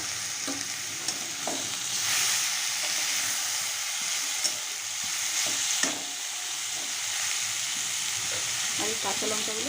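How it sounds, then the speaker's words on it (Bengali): Taro stolons stirred into a pan of frying onion and garlic, a continuous sizzle with occasional scraping clicks of a spatula against the pan, fairly close and moderate in level. "পেঁয়াজ আর রসুনটা ভাজা হয়ে গেছে, এবার আমি লতিগুলো দিয়ে দেবো।"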